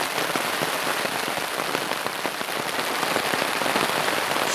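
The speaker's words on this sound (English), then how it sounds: "this is the second time out now and I've been hit by heavy rain again." Heavy rain falling outdoors on Longridge Fell, a dense, steady hiss of countless drops pattering close by on surfaces and gear, loud and unbroken throughout.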